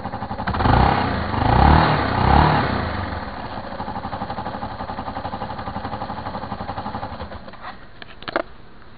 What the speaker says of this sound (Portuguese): Aí, eu vou acelerar a moto.